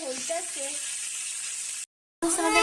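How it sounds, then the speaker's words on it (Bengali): Fish and green chilies fry in a pan with a steady, moderate sizzle, a voice talking over the start before a short silent break and a return of the frying. "ভাজা"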